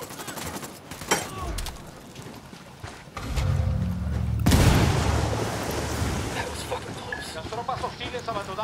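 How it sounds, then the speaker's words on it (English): A grenade blast in Ghost Recon Wildlands erupts as a loud, broad boom that rolls on for several seconds, preceded by scattered gunshots and quieter game noise; voices speak over the scene. "Grenade, watch out!"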